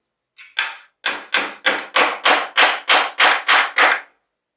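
Nails are hammered into the frame of a Wegner CH-25 lounge chair during Danish cord seat weaving. About ten sharp, close blows land in an even rhythm, each ringing briefly on the wood.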